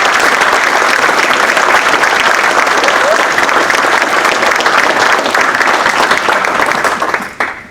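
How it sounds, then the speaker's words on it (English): Loud, sustained applause from an audience at a National Technical Honor Society ceremony, dense steady clapping that fills the room before tapering off abruptly at the end. "Let's give them one more round of applause"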